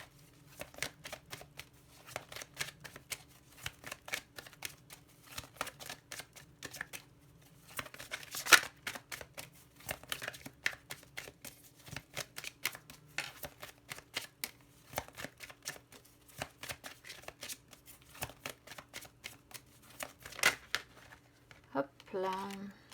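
Oracle and Lenormand cards being shuffled by hand, a long run of quick, close papery riffles and slaps in irregular bursts, with someone speaking softly underneath.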